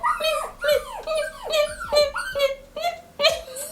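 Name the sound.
woman imitating puppy whimpering sounds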